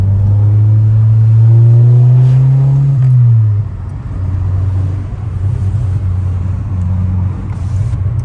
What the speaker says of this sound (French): il y a quand même du bruit qui est omniprésent dans la voiture